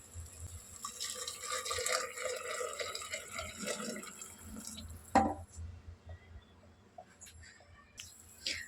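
Water poured into a cooking pot of tomato rice on the stove, a steady splashing fill that swells and settles, with a sharp clink midway and scattered drips afterward, fairly close.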